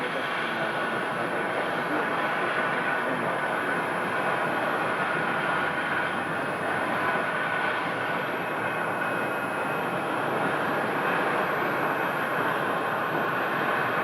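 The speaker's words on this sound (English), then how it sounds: "And you have another Airbus that just landed." A steady, distant roar of jet engines comes from an Airbus airliner rolling along at Phoenix airport after landing. The low, even rumble continues without a break.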